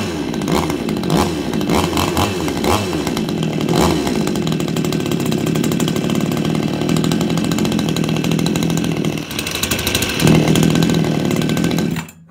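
A Vityaz BP-45 gasoline chainsaw runs close and loud for about twelve seconds, holding a steady buzzing idle with a few revving swells before it cuts off abruptly at the end.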